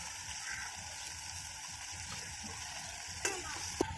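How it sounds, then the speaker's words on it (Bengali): Chopped onions for a chicken paratha filling fry steadily in a pan with a continuous close sizzle, a couple of sharper clatters near the end. "এই যে পুর বানানোর জন্য পেঁয়াজটাকে ভাজছে ভালোভাবে।"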